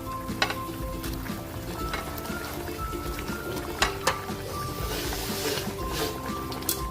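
A pot of sinigang soup with carp bubbles at a steady boil, with a dense, continuous simmering texture and a few sharper pops and clinks over the top.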